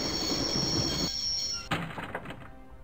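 A train in the adventure game Broken Sword grinds and rumbles loudly with a high wheel squeal, then cuts off abruptly, followed by a few metallic thunks as it comes to a stop.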